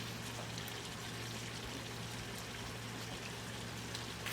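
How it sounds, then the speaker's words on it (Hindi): Lemon juice poured over cooked Peshawari namkeen gosht, a steady, even liquid stream lasting about four seconds with no voices. "इसके ऊपर लेमन जूस डालेंगे तकरीबन 2 टेबल स्पून।"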